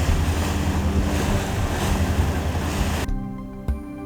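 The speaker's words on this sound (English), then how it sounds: "Forest Service employees travel to many work sites in small boats." A small boat crosses cold ocean waters in Alaska, with waves slapping and wind buffeting the microphone in a loud, continuous wash that cuts off abruptly near the end.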